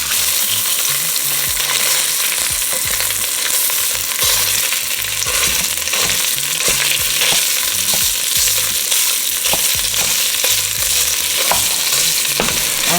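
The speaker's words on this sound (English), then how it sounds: "Then we're just going to add our Italian sausage" About a pound of Italian sausage fries and browns in a pan, sizzling loudly and steadily throughout, with occasional scraping and stirring from a utensil and no talking.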